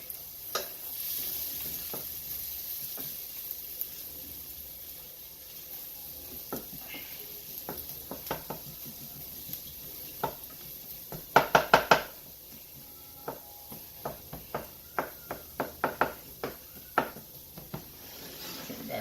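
Garlic sizzling in butter in a pan for chicken mushroom risotto, a soft steady hiss with scattered utensil taps and scraping, including a quick cluster of sharp clicks partway through.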